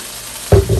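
Chopped garlic and onion hitting hot olive oil in a pan for chicken afritada, bursting into a sudden close, loud sizzle after a moment of quiet.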